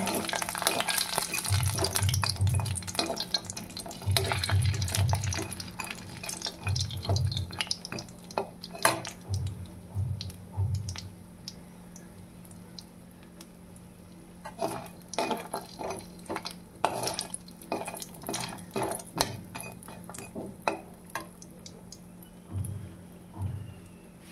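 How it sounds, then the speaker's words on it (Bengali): Lentil dumplings (bori) fry in mustard oil in a kadai, a soft sizzle under repeated scraping and clinking of a spatula against the pan in irregular bursts, fairly quiet and close, with no talking. "এবার আমরা বড়িগুলোকে প্রথমে একটু ভেজে তুলে নেব।"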